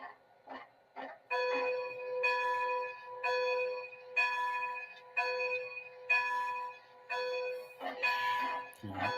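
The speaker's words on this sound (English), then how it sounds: "that's the default bell, how she actually sounds" A locomotive bell in a train simulator game rings in a steady, repeated pattern of clear metallic clangs, with some voices talking briefly around it.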